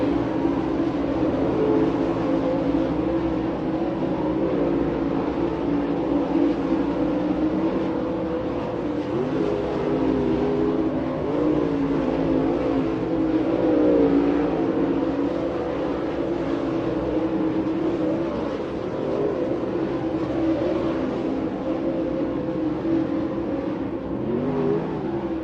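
Lucas Oil Late Model dirt race cars roar around the West Virginia Motor Speedway dirt oval in a steady, loud, continuous engine drone with no break across the whole stretch.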